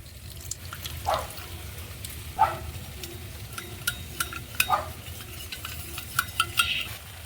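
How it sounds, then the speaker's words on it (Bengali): Cornflour being stirred into a little water with a spoon, producing scattered light clinks and taps against the bowl over a soft, steady background hiss. "1 চামচ কর্নফ্লাওয়ার নিয়ে নেব, ওতে অল্প একটু জল দিয়ে কর্নফ্লাওয়ারটা গুলে নেব।"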